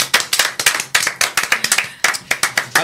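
A small audience claps for a quiz winner at a live cover show, a few distinct hands in a steady, slightly uneven rhythm, fairly close and with no talking.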